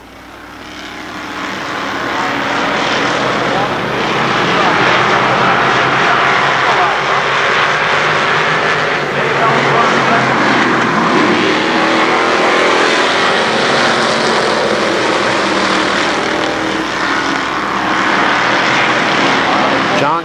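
Race cars at a speedway roar steadily as they power out of turns three and four, a loud sustained engine drone filling the whole stretch after a short build at the start.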